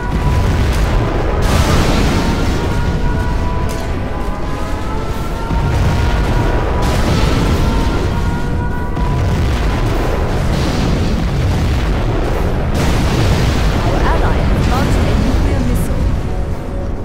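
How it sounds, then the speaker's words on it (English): A nuclear missile explosion in Command & Conquer Generals Zero Hour: a loud, sustained, rumbling roar of blast and debris fills the whole stretch, with sharper cracks and booms scattered through it. "We have launched our nuclear missile."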